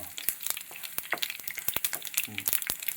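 Split green chillies fry in oil in a pan for pineapple pachadi, giving a steady close sizzle broken by sharp clicks and scrapes as they are stirred.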